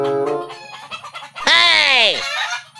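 A chicken lets out one loud, drawn-out squawk, close by, after a stretch of quieter clucking and background voices.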